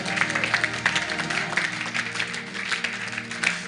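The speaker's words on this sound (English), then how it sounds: "Clap your hands and give God praise and glory." A congregation at an Easter convention claps its hands in praise, a dense, continuous wash of many hands applauding together, moderately loud and filling the room without a break.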